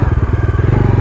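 A Bajaj Dominar 250 motorcycle runs at high speed, its engine giving a loud, steady pulsing drone with rapid rhythmic firing beats, close and continuous.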